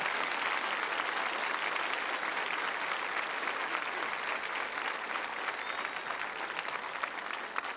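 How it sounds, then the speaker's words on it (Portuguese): A church congregation applauds Father Eduardo during a tribute to priests, a steady, even roar of many hands clapping heard from some distance, continuous and unbroken throughout. "Salve de palmas"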